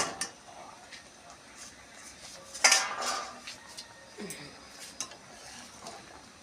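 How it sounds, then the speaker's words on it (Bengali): A metal lid lifted off a boiling pot of mango pickle, one bright clatter of lid against pan rim amid a few lighter kitchen clinks, close and fairly loud. "ফুটে উঠেছে, ঢাকনাটা আমি খুলে দেব"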